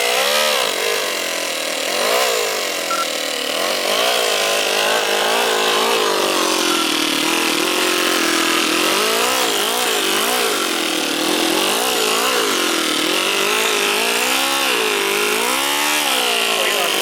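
An RC car fitted with a 2-cylinder 4-stroke overhead cam engine runs loud and close, a continuous buzzing drone that rises and falls in pitch as the throttle is worked, with no talk over it.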